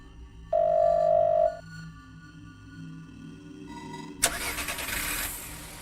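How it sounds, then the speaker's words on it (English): In the game Firework, a steady electronic tone sounds briefly, then after a pause a car engine cranks and catches outside a door, settling into a loud, rough idle. "The sound of a car starting is coming from outside the door."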